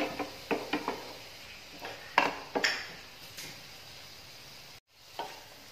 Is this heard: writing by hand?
no